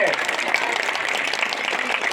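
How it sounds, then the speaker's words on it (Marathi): An audience at a seminar claps steadily together, a dense, even patter of applause that carries on at full strength throughout. "वाजवा रे टाळ्या त्यांच्यासाठी"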